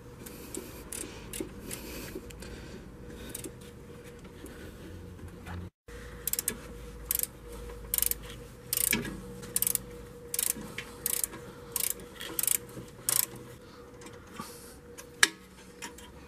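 A ratchet wrench loosening a rear brake caliper bolt on a Hyundai Accent, giving repeated bursts of rapid mechanical clicking over a steady low background hum, close by and with no talking.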